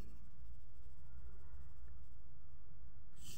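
A black colored pencil scratches steadily across paper while someone draws and colors, a soft, continuous close-up rasp with no talking.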